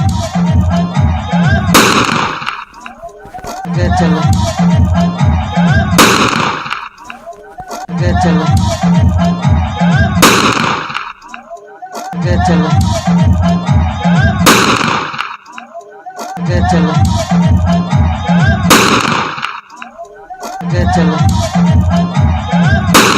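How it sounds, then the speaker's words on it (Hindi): Shots fired into the air from a country-made pistol at a birthday party in a residential colony: sharp, loud bangs recur every few seconds over crowd noise and voices. "फायरिंग की आवाज भी हमने आपको सुनवा दी"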